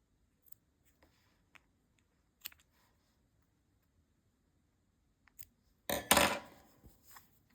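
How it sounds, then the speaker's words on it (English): Scissors snip short yarn ends off a small crocheted amigurumi star: a few faint, sparse clicks, then a louder burst of cutting near the end, with no talking. "So just grab your scissors and cut off all of these short yarn ends."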